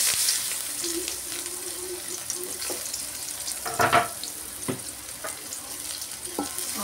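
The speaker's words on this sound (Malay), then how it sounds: "minyak dah panas. Kita tumis dulu bawang merah, bawang putih ya" Shallots and garlic sautéing in hot oil, a steady low sizzle running throughout with a few sharper stirring scrapes and clinks, close and fairly quiet.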